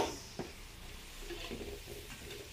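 Onions sauté in a pan with a soft, continuous sizzle, broken by a few scraping stirs and light knocks of a utensil, close but faint.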